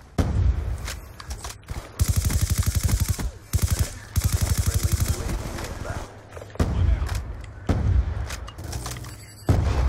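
Rapid automatic gunfire in the video game Black Ops 2, loud sustained bursts of machine-gun fire with heavy thuds, interrupted by short pauses, with voices talking over the shooting.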